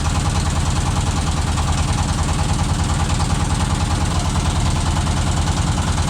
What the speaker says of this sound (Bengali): সমুদ্রে ভেসে আসছে দুইটা লঞ্চ একটা লঞ্চ একটা ইঞ্জিন নৌকা